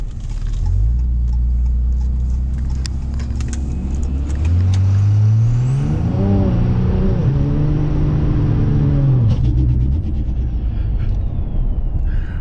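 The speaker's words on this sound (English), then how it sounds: "This is a good looking burnout." A 1000-horsepower Cummins diesel truck does a burnout at a street racing meet, its engine droning loudly and rising in pitch as it revs, with tire noise and crackling throughout.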